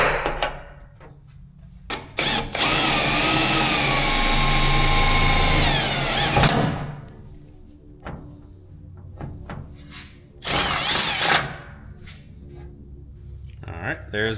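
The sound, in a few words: drilling through Dodge Challenger hood for hood pin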